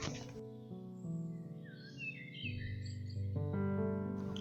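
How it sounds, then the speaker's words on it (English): Lovebird calling: a few bright, quick chirps and twittering notes in the middle, layered over steady background music. "lovebird."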